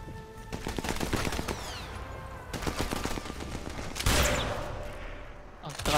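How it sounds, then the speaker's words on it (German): Gunfire in the Sniper Elite 4 video game at a military camp rings out in dense rapid bursts of automatic shots, with a heavier blast near the end, loud and close. "Alter, wie viele Schüsse hält der denn noch aus?"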